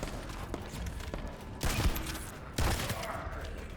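Bursts of gunfire in the video game The First Descendant, with two loud heavy volleys over a constant background rumble of combat and faint scattered shots, heard without speech.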